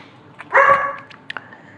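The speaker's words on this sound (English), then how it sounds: "It's really barky out there. It's very important that these barks happen" Dogs barking in the video game Dread Delusion: one loud, rough bark burst near the middle, then a few short, fainter yips, with no voices.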